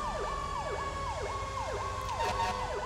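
A fire engine's dual siren in GTA 5 wails in steady, repeating sweeps, loud and continuous over a low rumble of traffic, with a brief horn-like burst near the end.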